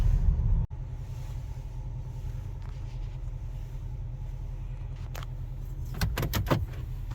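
A 2021 Chevrolet Silverado 2500HD High Country pickup with a Duramax L5P diesel and 6-inch lift rolls in with a steady low engine rumble, then a few sharp clicks and a door-like clunk near the end.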